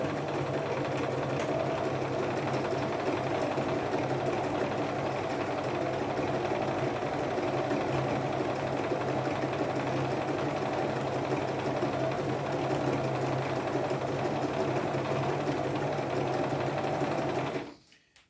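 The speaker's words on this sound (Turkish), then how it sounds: "S moduna aldığımız zaman makine ikileri bir geri, ikileri bir geri gider" A Singer Promise 1412 sewing machine running a stretch stitch, the needle moving two forward and one back in a steady fast mechanical whir that holds evenly for about seventeen seconds before cutting off.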